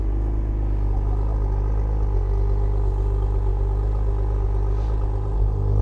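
A V6 race car engine on a circuit runs with a steady, loud mechanical drone, its low hum holding nearly constant throughout without sharp revving peaks.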